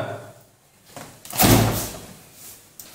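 A fridge door swings open with a loud sliding thump in the middle, then softer rustling and a small knock near the end, heard alone in a quiet home.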